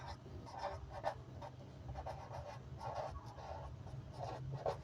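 Pen or pencil scratching on paper, writing out 'perimeter' by hand in a maths lesson, in short repeated strokes that sound close but quiet.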